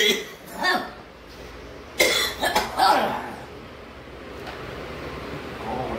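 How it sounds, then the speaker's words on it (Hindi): Several harsh coughs come in bursts, a couple early and a cluster of three or four in the middle, close by over quiet background hiss. "खांसी हो रही है बहुत।"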